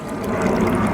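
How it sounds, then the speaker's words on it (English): Water pours steadily and closely into the reservoir of a Spartan Mosquito Eradicator, topping it up to the fill line with a continuous bubbling splash. "I'm now going to top it to the full line"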